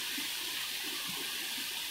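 Flood water rushes across a wide channel in the desert at Slab City, a steady broadband roar heard from a few hundred yards away, with no voices.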